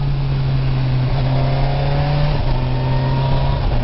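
Kawasaki Versys 1000 SE motorcycle accelerating with quickshifter gear changes, a loud steady engine drone that rises in pitch, then briefly drops as a gear shifts and climbs again, with wind noise.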